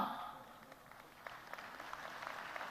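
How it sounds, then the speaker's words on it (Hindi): Crowd clapping at a political investment event in Indore, Madhya Pradesh: a sustained, dense wash of applause filling the whole stretch at moderate loudness, with scattered sharper claps and no clear voice on top. "इस पे भी जोर से ताली है।"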